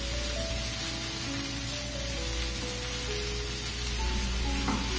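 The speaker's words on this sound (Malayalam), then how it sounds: "അപ്പോൾ ആ ഒരു പരുവത്തിൽ നല്ല തീയിൽ വെച്ചിട്ട് ഇളക്കി ഇളക്കി എടുത്താൽ മതി." Cauliflower rice, cooked as a keto ghee rice, sizzles and fries in a pan on high flame while being stirred, a steady loud crackling hiss with occasional scraping; no talking.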